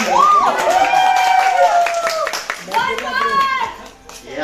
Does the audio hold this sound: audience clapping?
yes